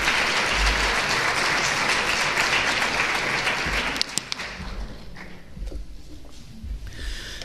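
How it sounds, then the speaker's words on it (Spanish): Loud, dense applause from a church congregation fills the space for about four seconds, then thins to scattered claps and rustling as it dies away. "Dale un fuerte aplauso."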